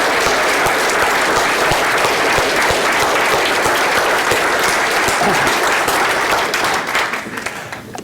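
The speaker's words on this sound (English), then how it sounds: "Can we give him a big round of applause, please?" Sustained audience applause from a room of roughly 70 to 90 people, dense steady clapping that holds loud for most of the stretch, then begins to thin and fade near the end.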